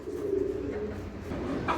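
A pigeon at a pigeon farm gives a soft, low, drawn-out coo close by, followed by light rustling and a brief handling sound.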